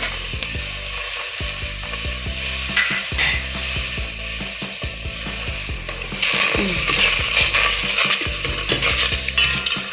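Shrimp for a spicy Thai shrimp salad is stirred while cooking in a pan, with rhythmic scraping and clinking of a utensil against the pan over a steady close sizzle that swells louder toward the end.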